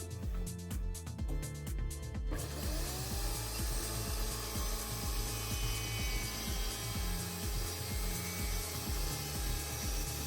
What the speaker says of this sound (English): I will now cut this section with the same saw blade